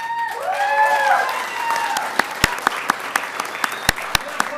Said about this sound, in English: your applause is well warranted for her